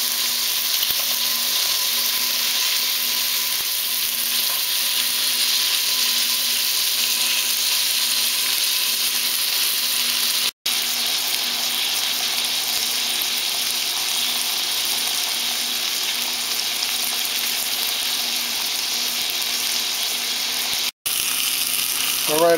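A seasoned beef steak sears in a cast iron pan with a loud, steady, hissing sizzle that runs unbroken for a long stretch, cut by two brief dropouts.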